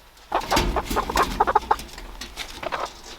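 Several hens, including a Sapphire Gem laying hen, cluck nearby in quick, uneven bursts, loud and close, then trailing off into quieter murmurs.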